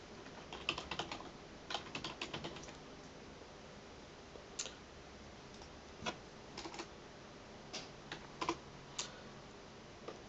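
Keys clatter on a computer keyboard as a web address is typed into a browser, in quick bursts of close, quiet clicks separated by short pauses.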